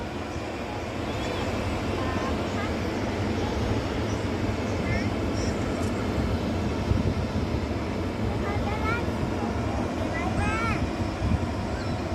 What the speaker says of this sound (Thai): นกแอร์อ๋อเป็นของนกแอร์กำลังจะขึ้นนะครับ